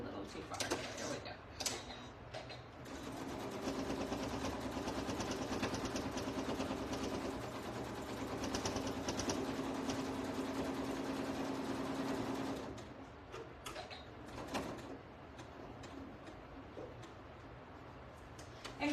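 A sewing machine stitches fabric in a long continuous whirring run that stops near the end, leaving a few short bursts and quieter pauses in a room.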